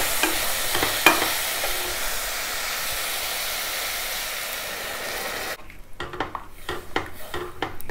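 Coconut milk poured into a pot of pulav with garam masala, sizzling steadily and stirred with a metal spoon against the pan, ending in intermittent scraping stirs.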